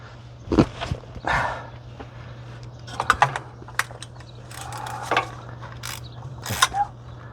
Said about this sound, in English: Have a right size ratchet for what you're doing.